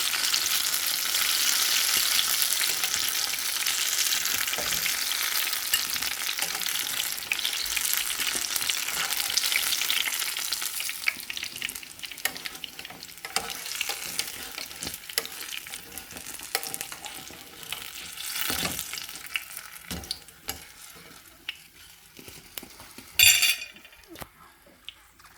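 Banana turon fries in a pan of oil, a dense sizzle that gradually thins and quiets, ending in sparse pops and a clatter of utensils.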